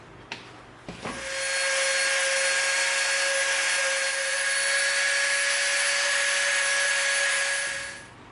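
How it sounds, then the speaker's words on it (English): A Dremel rotary tool grinds steadily along the edge of an EVA foam piece, a loud, continuous high-pitched whine that holds for about seven seconds after a few brief handling knocks, then winds down. "we're going to round the edge of this off first with the Dremel"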